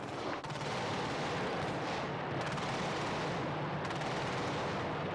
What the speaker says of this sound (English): Another large flash of explosion to the west of the city.